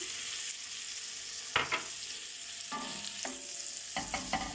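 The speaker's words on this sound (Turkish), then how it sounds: "Şöyle karıştıraraktan bir güzel kokusu çıkana kadar kavuralım." A butter and flour roux for béchamel toasts in a pan under a constant low sizzle, with a few spoon-stirring scrapes and clinks, near and fairly quiet, with no talking.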